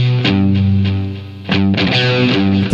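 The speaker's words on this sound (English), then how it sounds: "So this is the major third." Electric guitar with a distorted tone plays a major third interval, two notes struck together and left to ring, then struck again, loud and alone with no talking.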